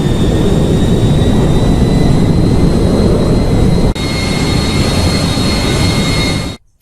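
An airplane engine sound effect played during a Chhattisgarhi folk stage play (lokrang gammat): a loud, steady roar with a thin whine that holds for about six seconds, dips briefly, then cuts off abruptly, with no talking.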